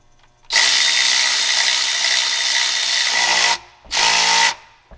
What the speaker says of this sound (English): Alright, let's get these Middle one's tightened up.